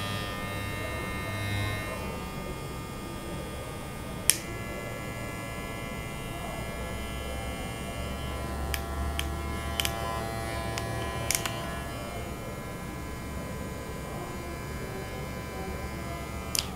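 A JRL FF 2020C hair clipper runs continuously with a steady, fairly quiet electric hum, broken by a few faint clicks and taps.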